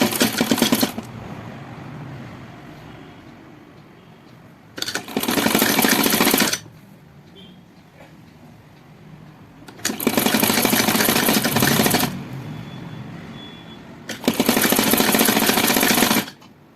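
An electric sewing machine stitching the back of a blouse runs in four loud, close bursts of rapid, even whirring, each lasting one to two seconds, separated by quieter pauses while the fabric is turned.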